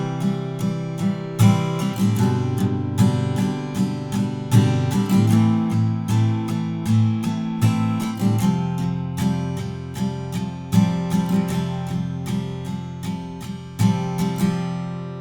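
Acoustic guitar strumming the chord progression from the bridge of a song, played once through as steady, evenly spaced strums, close and clear with no voice over it.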